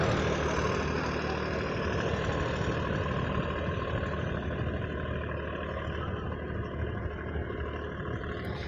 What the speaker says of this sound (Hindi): ट्रैक्टर आप लोग देख सकते हैं चल रहा है,